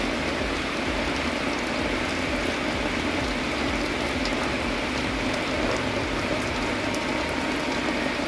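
Rain falls in a continuous, dense hiss with no pauses, steady and fairly loud from start to finish.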